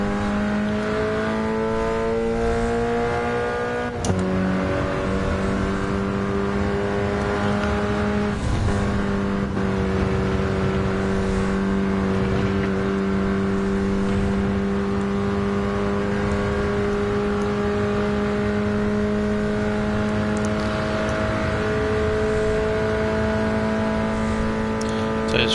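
BMW E30 race car in Gran Turismo 7 at Spa, its engine droning steadily at high revs through long pulls, with several sharp gear shifts that drop the pitch before it climbs again, loud and continuous.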